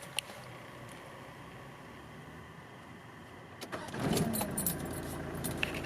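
Keys jangle in the ignition of a 1994 Mitsubishi Pajero Exceed with a turbo diesel intercooled engine, then the engine cranks and catches at about four seconds, settling into a close, steady idle.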